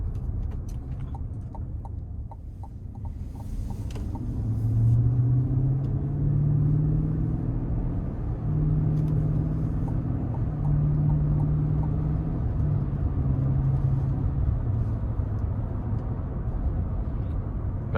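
A 2026 GMC Yukon XL Denali with a 6.2-liter V8 cruising around town, its engine a steady low rumble with smooth droning tones and rising pulls, continuous and fairly loud from inside the cabin.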